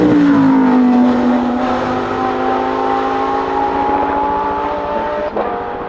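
A reimagined Porsche 911 race car, a restored 1990–1991 model with add-on rear bodywork, roars past at the Goodwood Festival of Speed, a loud engine note sliding down in pitch as it passes and fades, with commentary faintly beneath.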